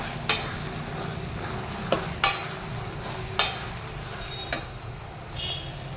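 A spoon stirs fried potato chips into gravy in a pan over a gas flame, giving about five sharp, quiet scrapes and clinks spaced a second or so apart against a low background hiss.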